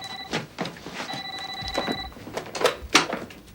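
A telephone rings with an electronic tone in an indoor scene, with two ring bursts separated by a short gap, heard near and moderately loud among light background noise.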